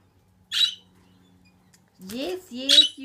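Lorikeets visiting a home give two sharp, high chirps about two seconds apart, clear against a quiet background, with a person's voice speaking between the calls.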